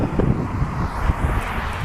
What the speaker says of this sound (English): There's wind, but it's just hot wind.